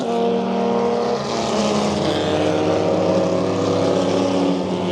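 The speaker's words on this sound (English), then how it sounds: "That is his Jaguar C-Type, which is an incredibly special car in and of itself." A Jaguar C-Type sports racing car, driven by Jenson Button, runs on a track with a loud, steady engine drone and strong harmonic tones rising in pitch, close and continuous throughout.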